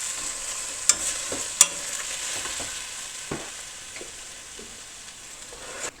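Venison browning in a pan on a stove while a potato masher breaks it up for crockpot lasagna, giving a steady soft sizzle with a few sharp clicks and scrapes of the masher near the start.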